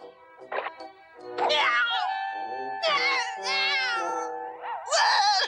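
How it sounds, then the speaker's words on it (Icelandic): A black cat meowing in a cartoon, several drawn-out, wavering meows in quick succession, close and fairly loud, with no talk over them. "Svartur köttur!"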